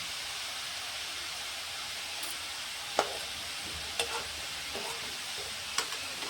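Food frying in oil in a pan, a continuous close hiss with a few sharp scrapes and taps of a stirring spoon against the metal.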